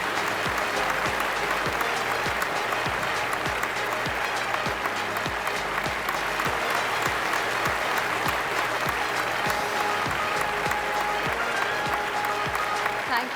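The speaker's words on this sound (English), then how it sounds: "And big round of applause, ladies and gentlemen." An audience at a televised summit gives sustained, loud applause. Rhythmic clapping fills the whole stretch without fading, and a low voice runs faintly underneath.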